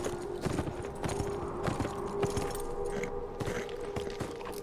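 Horse hooves clopping steadily in the video game Beyond Two Souls, a repeated walking rhythm at moderate distance over a continuous game ambience with a faint tonal drone, no talk.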